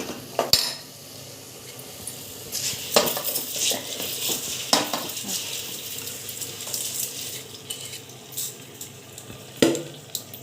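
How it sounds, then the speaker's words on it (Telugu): Rice is stirred into a vegetable biryani gravy in a pot: continuous close scraping and sloshing with a spoon, punctuated by sharp metallic clinks against the pot rim. "తిప్పుకుందామండి ఈ బియ్యాన్ని కూడా బాగా ఈ ముక్కలకి"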